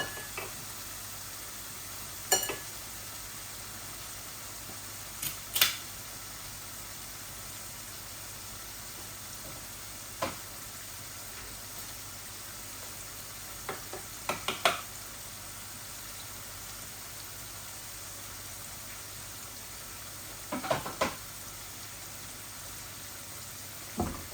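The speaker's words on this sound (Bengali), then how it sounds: "এগুলা একটু ভাজা ভাজা হোক, তারপর আমি সবজিগুলা দিয়ে দিব, আর একটু ভাজা ভাজা হোক।" Steady soft sizzle of vegetables with shrimp frying in a pan, with occasional sharp clinks and scrapes of stirring over a constant low hum.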